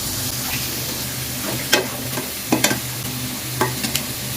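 Fish is added to a pan of spiced gravy frying on the stove, which sizzles steadily while a spoon stirs and scrapes the pan in several distinct knocks.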